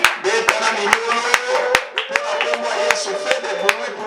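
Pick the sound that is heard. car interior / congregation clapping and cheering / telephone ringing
congregation clapping and cheering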